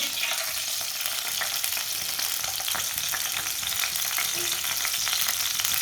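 Finely chopped spinach frying in oil in a pan, a dense continuous sizzle, close and loud throughout with no voices.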